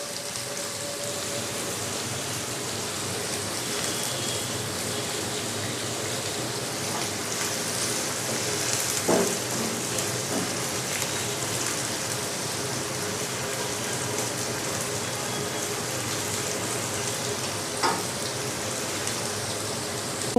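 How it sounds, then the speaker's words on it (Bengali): Onions frying in a pan for a broiler chicken and potato curry, giving a steady, moderate sizzle like rain with a few faint pops and no talk. "প্রথমে আমি পেঁয়াজটাকে ভেজে নিব ভালো করে।"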